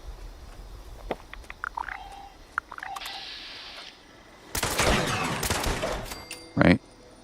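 Automatic gunfire from a 90-round weapon in Fallout 76: scattered clicks and short tones give way to a dense, sustained burst of rapid shots, followed by a brief loud blast near the end.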